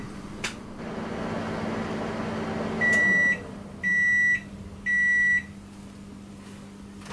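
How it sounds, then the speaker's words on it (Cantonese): A microwave oven heating damp shiitake mushrooms hums steadily at close range, then the hum stops and three evenly spaced electronic beeps sound before a quieter background hum carries on. No one speaks. "跟住而家將啲冬菇放入去部微波爐度叮1分鐘先。"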